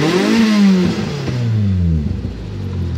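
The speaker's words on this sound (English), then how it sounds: "if you're wondering what that chirping noise is, it's my clutch." A car fitted with an upgraded clutch revs loudly up close, its engine note rising and falling in a couple of pulls with a faint chirp from the clutch mixed into the drone.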